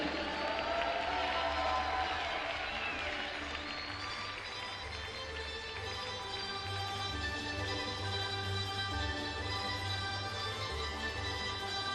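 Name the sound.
applause for the media representatives at a gymnastics World Cup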